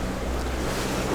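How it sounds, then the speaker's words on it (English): Wind and choppy ocean waves rush past a catamaran under way off the North Carolina coast, a loud blustery wash with heavy low rumble from wind buffeting the microphone. "Just enough wind to kick up a little chop in the ocean."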